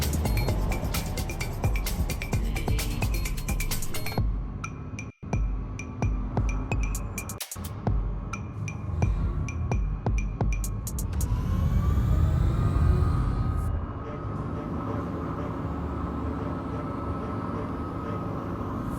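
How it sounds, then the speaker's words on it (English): Spaceship engines in Star Citizen power up with rapid mechanical clicks and clunks, then a rising, swelling whine and roar that settles into a steady hum, loud and close. "power up our engines and head back into the skies"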